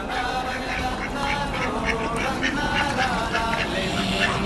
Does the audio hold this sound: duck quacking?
yes